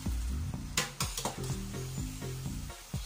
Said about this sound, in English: So you have to always stir it together.